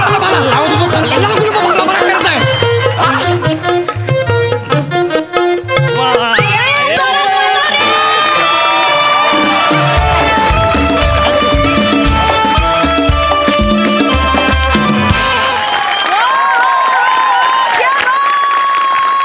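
A studio audience cheers and applauds after a comedy performance on a Marathi comedy stage show, with loud crowd noise blending into upbeat music.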